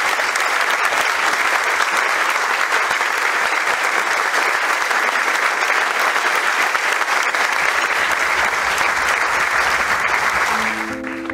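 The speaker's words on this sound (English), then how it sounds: "was greeted with thunderous applause and cheerful admiration." Thunderous applause from a large audience in a hall at an interfaith forum, a loud, unbroken wash of clapping that holds steady for over ten seconds before easing off at the end.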